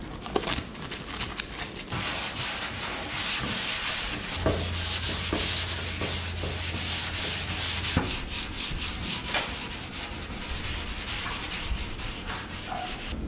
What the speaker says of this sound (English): Okay, so the epoxy has been sanded.